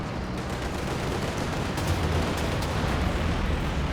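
A strafing run in the World War II strategy game Company of Heroes 2: a dense, continuous roar of rapid gunfire and rumbling impacts, steady and fairly loud throughout, with no voices.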